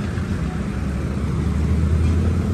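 A Honda ADV 150 scooter sits idling at a stable rpm. Its engine gives a steady, low, even hum that stays close and continuous throughout, with no voices.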